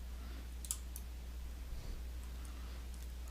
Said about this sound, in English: click the Locate button